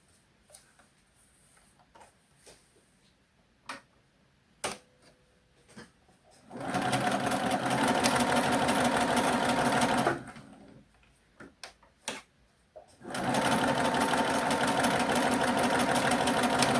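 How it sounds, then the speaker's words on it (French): A sewing machine stitches quilt pieces for a flying geese block in two sustained bursts of fast, even needle clatter. Quiet handling clicks come before and between the runs, and no one speaks. "Allez, je couds les deux autres."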